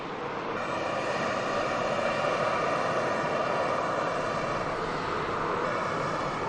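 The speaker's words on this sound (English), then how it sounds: "Emirates A380." An Emirates Airbus A380 holding short at Manchester Airport gives off a steady, loud broadband roar of idling jet engines, constant throughout with no voices.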